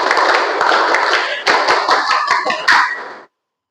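A group of Scouts claps hands together in a quick rhythmic pattern of sharp, close claps with short pauses between phrases, ending abruptly.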